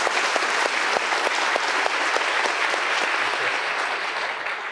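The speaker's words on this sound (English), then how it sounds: "big round of applause." A lecture audience at a Royal Institution Christmas Lecture on food breaks into sustained, loud applause, dense clapping filling the hall from start to finish and easing off only slightly at the end.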